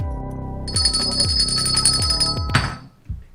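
A bell rings repeatedly in a live-stream studio, a bright sustained ringing tone over a steady series of rhythmic strikes, ending in a clatter and a final short knock.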